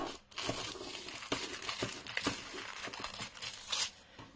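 Crinkly cutting and crunching of excess material trimmed from a floating frame project, a close, busy run of snips and rustles with brief louder bursts, with no talking.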